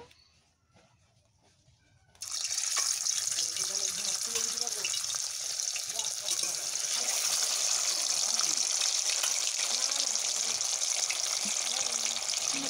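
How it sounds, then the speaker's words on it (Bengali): Fish hits hot oil and a loud, steady sizzle starts abruptly after a quiet moment, continuing evenly without talk. "মাছটা এবার দিয়ে দেবো ভাজার জন্য।"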